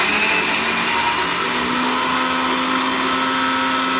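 An electric kitchen mixer grinds green chillies for chutney, a loud, steady whirring motor hum that runs close and unbroken for the whole stretch.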